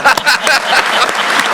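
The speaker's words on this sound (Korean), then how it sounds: "박수 한번 해야지." Brief, close applause from attendees at a government policy meeting, a quick burst of many hands clapping that lasts under two seconds.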